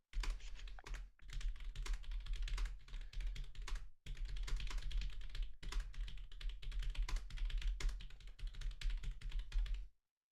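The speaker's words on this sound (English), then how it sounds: "I think Paul went to typing school because you type faster than I can think" Fast typing on a computer keyboard: a dense, continuous clatter of close keystrokes with two brief pauses, heard alone for about ten seconds.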